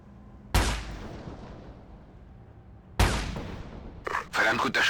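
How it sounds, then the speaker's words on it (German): Two loud sniper rifle shots in Ghost Recon Advanced Warfighter 2 ring out a couple of seconds apart, each one booming and then fading into a long echo, followed by a voice talking. "Verdammt guter Schuss, Captain."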